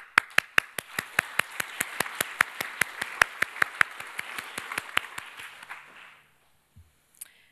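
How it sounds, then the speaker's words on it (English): Applause at the close of a Python programming conference talk: a steady run of crisp, evenly spaced claps over a soft wash of crowd clapping, fading out after about six seconds, then quiet. "you all deserve a round of applause for that."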